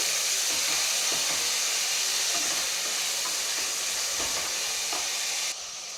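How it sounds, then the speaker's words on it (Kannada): Tomatoes, green chillies and mint fry in hot oil for a chicken dum biryani, giving a continuous dense sizzle with faint stirring scrapes, close and steady without any talk. "ಇಷ್ಟನ್ನು ಹಾಕಿ ಸಾಫ್ಟ್ ಆಗೋವರೆಗೂ ಬೇಯಿಸ್ಕೊಬೇಕು. ಫ್ರೈ ಮಾಡ್ಕೊಬೇಕು ಆಯಿಲಲ್ಲಿ."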